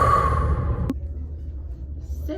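A single deep, breathy exhale through the mouth, loud and close, drawn out for about a second like a dragon breathing fire, then trailing into quiet room tone.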